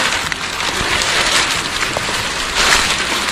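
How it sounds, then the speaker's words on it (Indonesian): Rain pours down on a muddy mountain trail on Gunung Kembang, a loud, dense, close hiss of drops that stays steady for the whole stretch and swells slightly near the end. "Oh, hujan. Makin becek."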